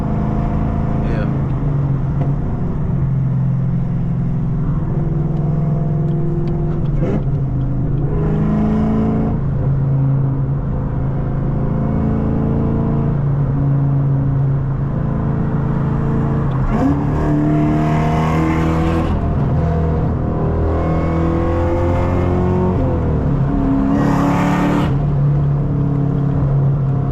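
Supercharged Chevrolet Camaro ZL1 engine drones and rises in steady revs through a driving run on a cold day, heard from inside the car, with someone talking over it much of the time.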